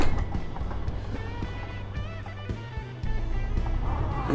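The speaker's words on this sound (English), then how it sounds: "Start the truck." A truck engine in Euro Truck Simulator 2 starts up, then settles into a steady low rumbling drone that stays loud throughout, with a brief knock partway through.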